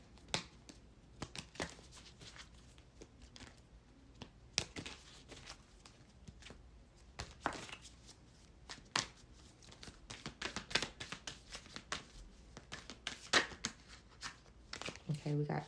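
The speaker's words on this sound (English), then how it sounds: "Let me get a card from the Earth Warriors deck" Oracle cards from an Earth Warriors deck being shuffled by hand, a close, soft run of riffling flicks and taps with brief pauses between bursts, over faint room tone.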